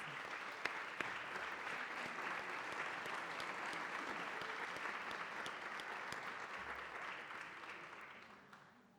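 Applause from the audience at a 2014 award ceremony after honorees such as a housing authority are named; steady, moderately distant clapping from a sizable crowd that holds evenly, then tapers off at the end.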